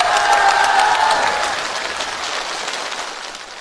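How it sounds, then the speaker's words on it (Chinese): A theater audience applauds at a televised Spring Festival Gala comedy sketch, loud, dense clapping at first that gradually thins and fades toward the end, with a few faint cheers mixed in. "听懂的鼓掌"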